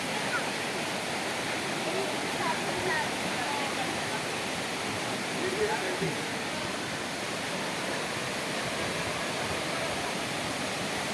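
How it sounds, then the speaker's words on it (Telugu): Hebbe waterfall in Karnataka roars as a dense, steady wash of falling water, loud and continuous for the whole stretch with no break. "హెబ్బే ఫాల్ ఇది. వాటర్ పైన నుంచి కింద వరకు వస్తున్నాయి చూడండి."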